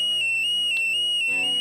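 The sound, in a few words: Arduino-driven alarm buzzer sounding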